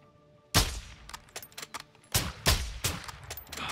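Gunfire in the Modern Warfare II campaign, sharp close shots and short bursts that crack out in clusters with brief gaps and trailing echoes, loud and standing alone.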